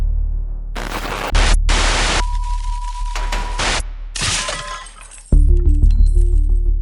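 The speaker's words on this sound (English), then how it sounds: "Smith pulled back his fist and smashed the mirror. Crash! The screen went static. Just gray snow and white noise." A mirror is smashed with a fist, giving a loud crash and bursts of shattering glass, then harsh screen static hisses and cuts in and out. Abrupt electronic tones and hums follow.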